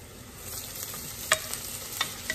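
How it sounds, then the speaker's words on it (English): Chopped sage and grated garlic fry in a hot pan as they are stirred, a close, steady hiss with a few sharp utensil clicks against the pan near the end. "we're gonna throw in here chopped sage and grated garlic. Sorry, there you go. We are going to mix it."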